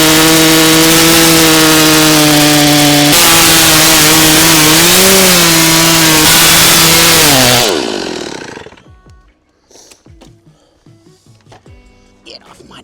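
Chainsaw cutting through a big cedar tree being felled in a backyard, a loud, steady engine whine that bogs and shifts pitch, then cuts off, leaving quieter rustles and knocks.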